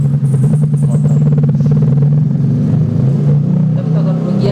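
A motorcycle passes close by on a road, its engine droning steadily and shifting pitch, loud against the background, with a person speaking over it.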